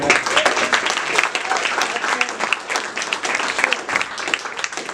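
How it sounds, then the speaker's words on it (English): A crowd at a youth sports team's award ceremony gives a steady round of applause, dense clapping holding for several seconds with a few voices underneath. "So a round of applause to you."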